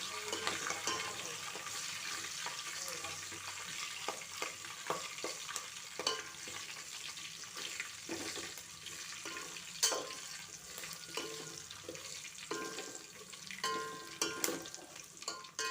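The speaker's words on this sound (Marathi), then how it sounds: "बघा तुम्ही कसं खुळखुळचा आवाज यामध्ये येतो आहे कढीपत्त्याचा" Curry leaves frying in oil over a low flame make a continuous crackling sizzle with sharp pops and repeated stirring scrapes, close and fairly loud throughout.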